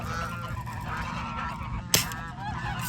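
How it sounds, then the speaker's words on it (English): Guinea fowl calling loudly as they scatter, a steady stream of harsh honking cries close by, with one sharp bang near the middle. "Look at the guineas starting to leave because they already know."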